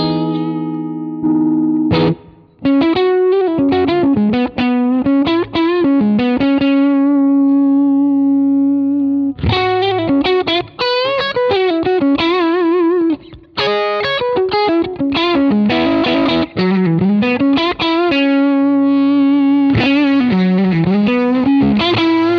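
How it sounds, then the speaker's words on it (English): Electric guitar played through the Tube Screamer overdrive model of a BOSS OD-20, loud driven chords and single notes with a warm, mildly distorted tone, phrases separated by short pauses. "So that's the Tube Screamer."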